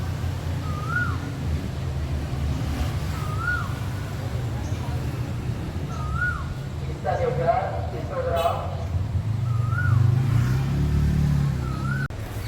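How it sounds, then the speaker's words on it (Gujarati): A koel calls repeatedly, its rising whistled notes spaced a few seconds apart, over a steady low rumble of background traffic. "સરસ મજાની કોયલ બોલે છે"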